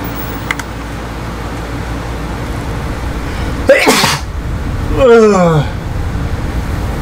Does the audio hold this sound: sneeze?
yes